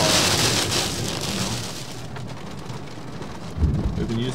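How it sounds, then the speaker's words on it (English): Steady rain patters on a surface, a dense hiss throughout with a heavier thud near the end. "It's just kind of raining."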